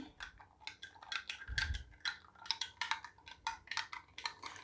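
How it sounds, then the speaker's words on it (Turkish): Dough being stirred in a bowl for Turkish bakery-style poğaça, with close, rapid clinks and scrapes of a utensil against the bowl in an irregular rhythm, fairly quiet and without speech. "Şöyle güzelce karıştırıyorum."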